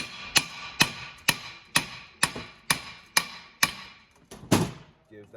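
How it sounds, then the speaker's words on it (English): A hammer tapping the spindle out of a Kubota mower deck: about ten sharp metallic strikes at a steady, roughly half-second rhythm, close and loud, followed by a duller thud as the part loosens. "first thing to do is you're gonna tap this side with the hammer here"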